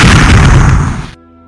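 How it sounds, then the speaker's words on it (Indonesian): A loud, heavy explosion in an animated martial-arts fantasy arena fight, a sustained roaring blast that holds for about a second and then cuts off abruptly to near silence. "Setelah ledakan itu"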